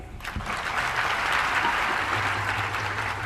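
Dense, steady applause from a satsang audience at an evening gathering in Aurangabad, fairly close and even in loudness for several seconds, with a faint low hum beneath the later claps.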